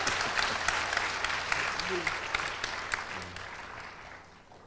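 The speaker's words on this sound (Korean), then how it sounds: "I hope you're clapping for Jesus, not for me." A church congregation gives sustained applause with many hands clapping at once, staying steady and then gradually fading out over several seconds.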